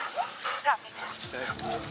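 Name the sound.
police K9 dog barking and whimpering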